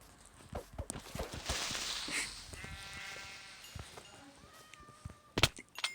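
Sheep bleating in Minecraft survival gameplay, several distinct game-style bleats in a row amid footsteps and background game sounds, fairly close and moderate in level, with no talk over them.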